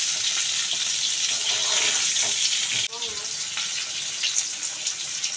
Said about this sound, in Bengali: তো দেখো আলুগুলো মোটামুটি ভাজা হয়ে গিয়েছে, পেঁয়াজগুলো হালকা ভাজা হয়ে গিয়েছে